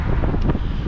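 Outdoor wind buffets the microphone in a steady low rumble for under a second, with no voices.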